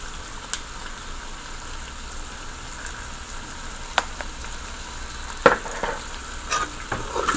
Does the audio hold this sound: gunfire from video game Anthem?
no